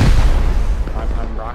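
Rocket launcher fire in the survival game Rust: a heavy low boom at the start decays into a rumbling tail, with a voice speaking briefly over it.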